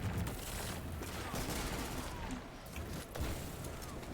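Dense, continuous gunfire and explosive blasts from shotguns and spammed grenades during a Destiny multiplayer match, with heavy overlapping shots and booms sustained throughout without a break.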